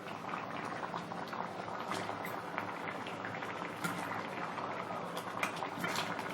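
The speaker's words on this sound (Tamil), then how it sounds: "நல்லா கொதிச்சு வந்துட்டுருக்கு பாருங்கள்." Palak paneer spinach gravy bubbling steadily in a pan, a dense continuous simmer of popping and gurgling bubbles, close and even throughout with no talking.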